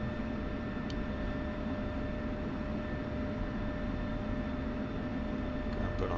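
A fighter jet's engine runs steadily on the ground in the flight simulator DCS during a Syria campaign, a constant near roar and whine with faint tonal hum, unbroken for the whole stretch.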